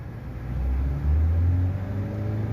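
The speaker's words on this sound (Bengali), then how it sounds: "এইবার দেখুন আমরা অ্যাক্সেলেটার ধরছি।" A Maruti Suzuki Swift Dzire BS6 CNG engine revs up and holds a steady raised idle, a loud close drone with a rising tone that levels off and stays even.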